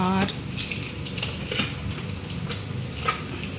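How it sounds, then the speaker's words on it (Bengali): Bay leaves and whole cumin seeds crackle and sizzle in hot oil in a pan while a Bengali prawn and bottle gourd dish is being cooked; the frying is soft, steady and close, with no voices. "আমি এর মধ্যে 2টো তেজপাতা"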